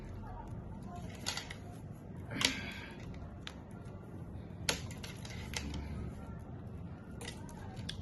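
Scissors cut through beaded fabric for a bridal dress with a few sharp, crisp snips over a steady low rustle and background noise.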